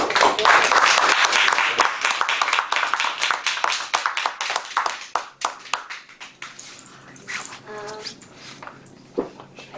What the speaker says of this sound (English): Let's give another round of applause to the panel members.